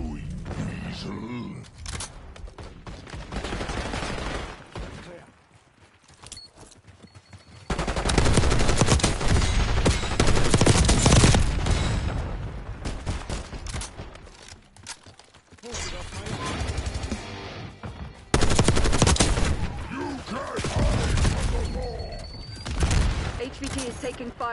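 Bursts of automatic gunfire and rapid rifle shots crackle in a Call of Duty Black Ops 6 multiplayer match on the Babylon map, loud volleys separated by brief lulls, with radio-style voice callouts over the action.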